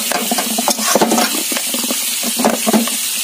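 Pointed gourd being stirred and fried in a pan for potol kosha, with loud, close sizzling and repeated scraping strokes of the spoon against the pan.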